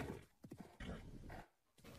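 A horse makes a series of snorting, neighing and whinnying sounds, several short bursts close up with brief pauses between them, and no one is talking.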